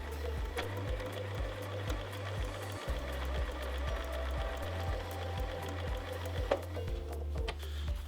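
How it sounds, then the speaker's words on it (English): A sewing machine stitches a pillow corner in quick, regular mechanical bursts with a rapid needle chatter, each run pausing briefly before the next, close and clear. "Now we're ready to sew our next corner, and we're going to start a quarter out and stop a quarter out."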